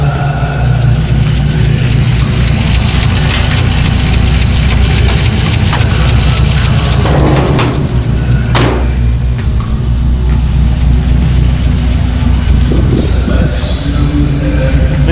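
A 1941 Buick with its original drivetrain and column-shift three-speed runs loud and close as it rolls back and forth, its engine a steady low rumble with a few revving swells.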